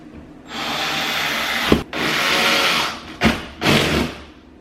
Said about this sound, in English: Use your trusty anchor, self-drilling.